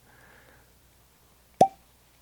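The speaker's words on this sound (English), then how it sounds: "Nice cork pop." A cork pops out of a bottle of Templeton 10 Year Rye whiskey outdoors in a backyard: a single sharp, fairly loud pop after a stretch of near quiet.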